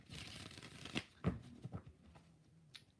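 Tarot cards shuffled by hand in a few short, quiet riffling bursts and soft slaps, close up, with brief pauses between.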